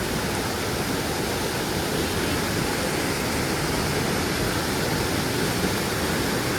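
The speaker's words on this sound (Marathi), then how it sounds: "तुला एवढा मोठा धबधबा आहे" A large waterfall roars in a dense, unbroken rush of water, loud and constant throughout, with no other sounds standing out.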